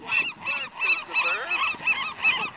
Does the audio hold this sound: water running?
no